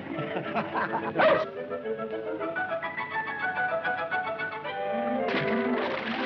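A dog barks and yips repeatedly in short bursts, moderately close, with some whimpering and a person's voice briefly in the background.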